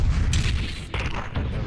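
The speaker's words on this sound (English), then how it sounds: "I'm going to shoot this thing." A spaceship fires its weapons in Starpoint Gemini 2. Heavy booming blasts rumble over a deep engine drone, with a couple of sharper shot bursts close together.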